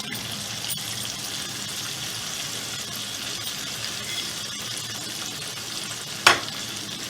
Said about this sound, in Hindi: अब हम अपने मसाले जात ऐड कर देंगे और अपनी ब्राउन प्याज जो हमने रखी हुई थी वो भी इसमें डाल देंगे।